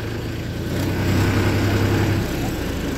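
A tractor engine in first gear rumbles steadily and loudly nearby, a low continuous drone that swells slightly midway, with no talking.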